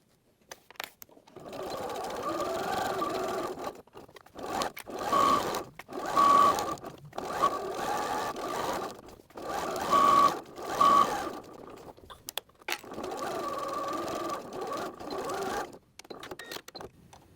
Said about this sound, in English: We'll be sewing around the perimeter, but we'll leave a gap about 3 inches in the bottom short edge.